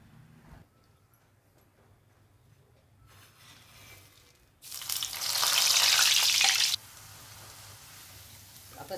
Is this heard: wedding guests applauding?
no